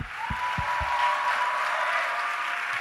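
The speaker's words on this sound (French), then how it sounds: "Toute l'église l'acclame." Church congregation applauding, a steady wash of clapping throughout with a few low thumps at the start.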